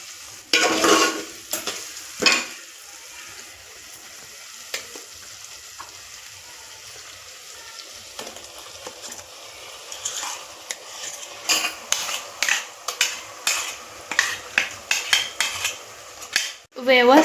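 Ground masala paste sautéing in a pan for chicken gravy, with a soft sizzle under repeated scraping and clinks of a spatula against the pan that grow more rhythmic and frequent toward the end.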